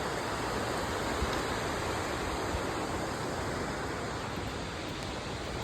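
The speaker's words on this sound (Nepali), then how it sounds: "खोला" Steady broadband rush of a flowing river reached on a hike to Dhapdam, loud and continuous like rushing whitewater, with no voices over it.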